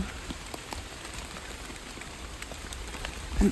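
Rain falls steadily on a forest while wild yellow mushrooms are gathered, a soft continuous patter of drops on leaves and ground with nothing else standing out.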